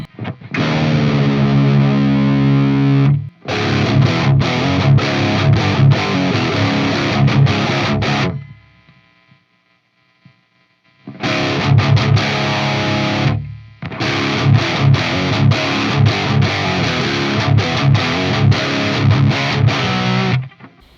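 Thick, heavily distorted electric guitar through a Synergy Diezel Herbert preamp module with bass turned up, a boomy low end, played in two loud bursts of chords and riffs separated by a few seconds of silence.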